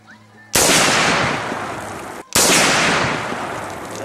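Two loud, close gunshot blasts ring out at an outdoor shooting range, each followed by a long rolling echo that fades slowly, with a quiet stretch before the first.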